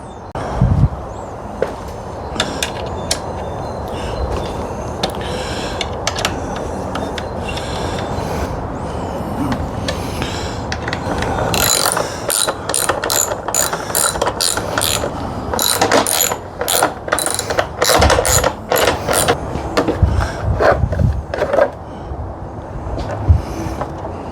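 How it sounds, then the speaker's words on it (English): A wrench works loose the grab rail bolts on a motorcycle, with long runs of rapid ratcheting clicks and clattering metal, close and fairly loud, busier and denser in the second half, no talk. "the grab rails are held on by one bolt there and one bolt the other side. So let's get those off."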